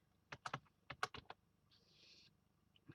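Keystrokes on a computer keyboard typing a web search for a tarot card meaning, a quick burst of close, crisp taps followed by a short pause and a few more isolated key presses.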